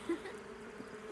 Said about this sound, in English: Barbie's back to taking care of her bees.